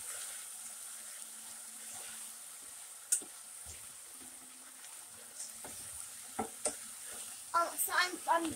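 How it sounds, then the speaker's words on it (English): Potatoes and carrots stirred in a cooking pot for creamy carrot potato soup, a quiet bed of low sizzle broken by scattered clinks and scrapes that grow busier and louder toward the end. "Now I put all my potatoes in here, and now I'm mixing."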